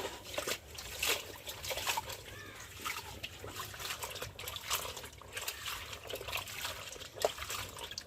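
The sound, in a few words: water running while washing jute leaves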